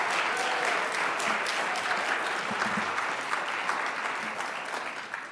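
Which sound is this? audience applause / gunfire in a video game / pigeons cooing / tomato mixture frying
audience applause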